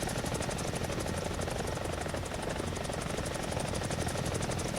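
Helicopter rotor and engine drone from the War Thunder video game, a steady dense chopping roar held at even loudness throughout with no voices.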